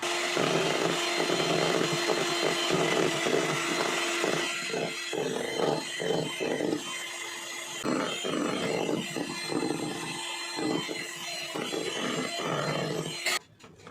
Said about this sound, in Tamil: நான் போய் பீட்டரில் போய் பீட் பண்ணிட்டு வந்துடுறேன்.